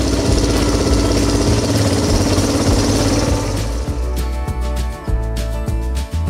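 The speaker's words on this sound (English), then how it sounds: "So I went ahead and brought over the four-wheeler loaded with all of our beautiful hostas" A four-wheeler ATV runs loud and steady nearby while hauling a load of potted hostas, its engine droning throughout with rhythmic knocks and thumps toward the end.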